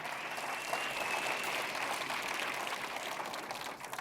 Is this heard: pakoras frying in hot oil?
no